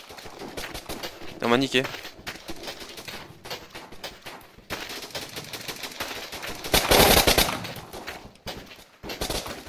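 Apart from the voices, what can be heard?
gunfire in video game Blockpost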